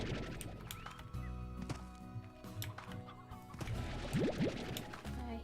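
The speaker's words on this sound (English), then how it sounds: "I hear chickens." Chickens cluck in the Slime Rancher video game, faint and intermittent beneath game music and ambient tones.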